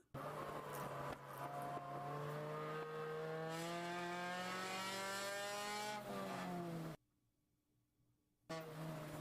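A race car engine roars past at high revs during a 24 Hours of Lemons endurance race at Thompson Speedway, climbing through gears with a rising whine, then cuts out abruptly before resuming briefly.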